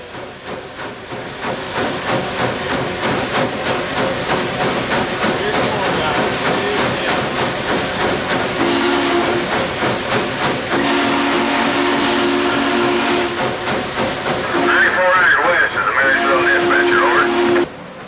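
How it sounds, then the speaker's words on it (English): Union Pacific 844, a 1944 steam locomotive, runs with a loud, continuous hiss and rumble. Steady whistle tones sound through the second half, and a bright, louder whistle blast comes near the end. "it came true in the cab of a real live steam locomotive"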